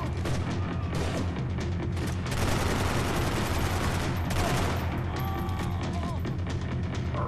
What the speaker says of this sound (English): I'm just gonna keep using this machine pistol until I officially run out of ammo for it